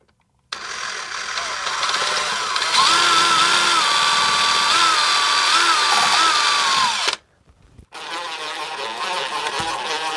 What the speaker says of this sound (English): what I'm going to do, and would recommend, is to use a very small drill bit